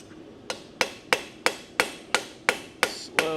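A ball peen hammer strikes metal in a blacksmith's shop, landing eight sharp, ringing blows at a steady rhythm, each ending in a brief metallic ring, close and loud with nothing else heard.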